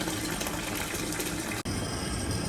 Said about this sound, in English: I'm going to run just a little bit of water over it to test it